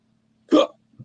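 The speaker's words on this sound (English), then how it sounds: "Ooh, God, hiccups." A single sharp, close hiccup followed by a small quieter catch of breath, standing alone in otherwise near silence.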